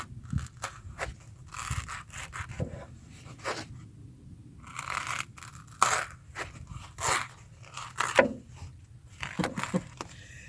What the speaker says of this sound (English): let's do the pool noodle